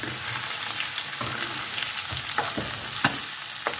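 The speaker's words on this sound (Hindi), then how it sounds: "तो हम इसमें वो डालेंगे और इसको अच्छी तरह से फ्राई करेंगे जब तक मिर्चें भी इसके साथ साथ फ्राई हो जाएंगी हमारी" Beef and green chilies frying for beef karahi, a steady close sizzle with scattered sharp crackles and the odd stir of the pan, no talking.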